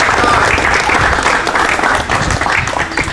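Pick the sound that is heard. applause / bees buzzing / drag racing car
applause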